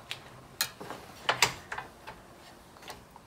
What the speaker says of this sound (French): Je verrouille les deux manettes arrière.